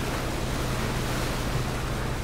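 Boat cruising across water in the battle royale game PUBG, a steady engine drone with continuous wash and surf noise, loud and unbroken throughout.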